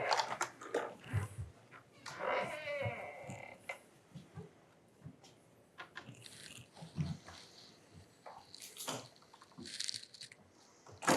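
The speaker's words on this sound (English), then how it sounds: "There's a little puppy there. You can hear them rustling around." A small puppy moves about inside a room of the old Wellington Fever Hospital at night, making faint, scattered scuffs, clicks and soft rustles that come and go in a quiet, echoing space.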